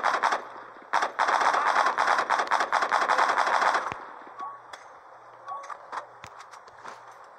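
Gunfire in the zombie video game The Walking Zombie 2. Loud, rapid automatic bursts for the first four seconds give way to scattered single shots and quieter clicks.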